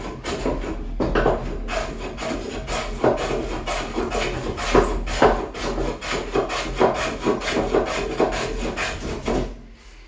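Hand plane scrubbing across a knotty wooden counter top, repeated rasping strokes in a steady rhythm, close and fairly loud with no talking.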